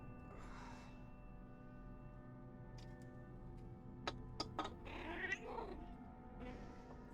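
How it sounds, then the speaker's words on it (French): A pet cat gives a few short, faint meows close by, with brief ticking clicks over a steady low hum from a gaming setup. "Oh, c'était quoi ce petit miaulement mon cœur?"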